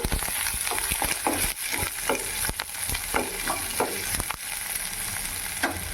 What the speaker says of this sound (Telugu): ఎర్రగడ్డలు కరేపాకు ఆవాలు చిట్టపట్లాడుతూ ఉంది ఎర్రగడ్డలు కరేపాకు వేసుకుంటాము బాగా మగ్గనిస్తాము